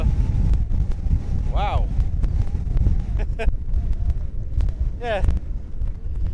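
Strong westerly wind blows steadily across the coastal seabird cliffs at Bempton Cliffs, a loud, continuous buffeting roar with a couple of short spoken exclamations over it.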